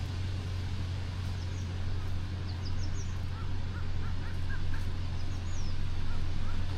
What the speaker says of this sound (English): Oh, it's some kind of a grouse or something